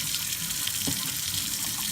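Bleach is poured into a sink drain, giving a steady, fairly quiet liquid gush and trickle throughout, with no talking.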